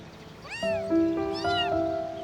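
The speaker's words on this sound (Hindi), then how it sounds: "ऐ बिल्ली" A cat meows twice in a drama scene, each call a rising then falling wail, the second one longer. A steady tone sits under the calls, and no one speaks.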